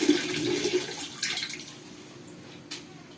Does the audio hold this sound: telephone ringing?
no